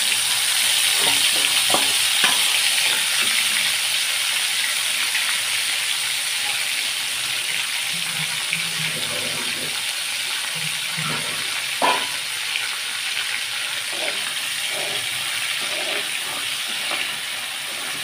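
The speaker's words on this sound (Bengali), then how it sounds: "এইটাকে এই তেলের মধ্যে দিয়ে একটু কষিয়ে নিচ্ছি" Chopped tomato, carrot and onion with spice masala sizzling in oil for chicken chaap, a loud continuous hiss with bursts of crackle and stirring clatter.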